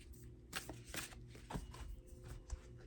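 Soft papery riffling and tapping of a deck of oracle cards being shuffled, close by, in a few short bursts with no voices.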